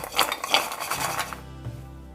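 Namak pare being tossed with chaat masala in a bowl, giving a few close clattering, clinking rattles of the crisp fried dough pieces against the dish over about a second before settling to quiet.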